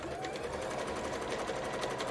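A sewing machine runs steadily, zigzag stitching a jellyfish-shaped bra, a fast, even mechanical whirring and ticking close by that carries on for the whole stretch without pause.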